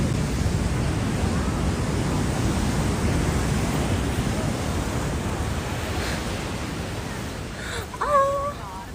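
Ocean waves wash steadily onto 1,000 Step Beach, a loud, continuous roar of surf with wind buffeting the microphone, ending in a brief high bird-like call.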